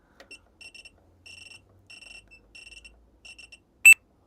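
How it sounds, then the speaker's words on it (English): A bench power supply set to about 31 volts gives a repeating electronic warning beep, clusters of short high chirps in an irregular rhythm, close and moderately loud in a quiet room, ending with one sharper louder tone. "don't worry about the beeping noise."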